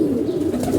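A domestic pigeon coos nearby, a low, soft, continuous murmuring call.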